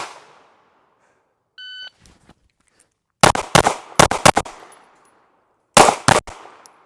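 A SIG P365 XMacro pistol fires in bursts of sharp, loud shots, a tight cluster of several cracks followed by a pause and another pair, each with a short fading ring; a brief beep sounds earlier.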